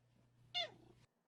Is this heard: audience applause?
no